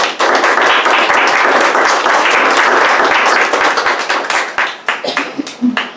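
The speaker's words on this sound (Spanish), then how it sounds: "Dale un aplauso a Jesús" Loud applause from a congregation at a church service, dense clapping from a crowd that continues steadily, then thins into scattered individual claps toward the end.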